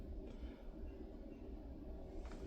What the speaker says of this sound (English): there's another train passing